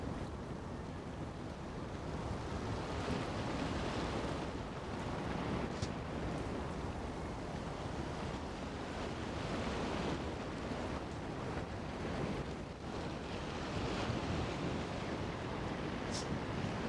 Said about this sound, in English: And the cold wind.